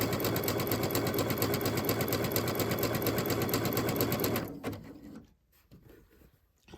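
A sewing machine stitches a zig-zag seam in a steady, fast mechanical chatter for about four seconds, then stops, leaving faint handling noises.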